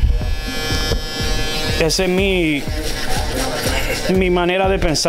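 Electric clippers buzz steadily during a barbershop skin fade haircut, running close under continuous Spanish talk and some background music.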